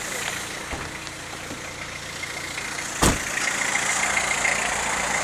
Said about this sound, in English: That engine revs up nicely, you can hear the turbo whizzing away.